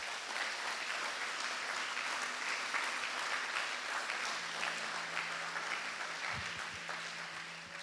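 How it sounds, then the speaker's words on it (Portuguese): A church congregation claps together in a steady, dense round of applause that fills the whole stretch at even loudness, easing slightly toward the end as a low sustained tone creeps in underneath. "Dá um salve de palmas para Jesus"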